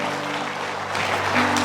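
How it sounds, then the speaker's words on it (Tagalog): A church congregation claps loudly during a sermon, a dense burst of applause that swells in the last second of a short stretch. "malakas sa palakpak"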